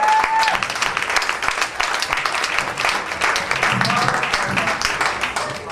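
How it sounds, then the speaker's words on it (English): A comedy club audience claps steadily for a stand-up comedian, a dense, loud, sustained round of applause heard close with no talking over it. "Stop clapping for Ron Poole"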